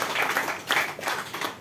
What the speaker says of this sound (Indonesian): Kita beri tepuk tangan dulu untuk pemerintah Republik Indonesia